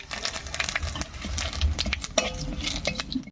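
Dry red chillies, whole cumin seeds and a bay leaf sizzle in hot oil left from frying aubergine, a steady crackling spatter with a few clinks of a spoon against the pan.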